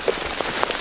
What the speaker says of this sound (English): it's pouring, so we better get going